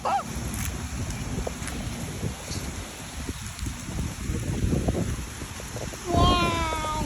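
Strong wind gusts through a garden home during a heavy rainstorm, a loud, rumbling buffeting against the microphone with voices talking over it.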